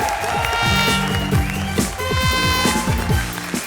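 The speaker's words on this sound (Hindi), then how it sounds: "जोरदार तालियां एक बार फिर चैलेंजर्स वीआईपी और सूरज के लिए" Applause from a comedy-show studio audience, a steady wash of clapping with bright band-like horn toots and tones running over it throughout.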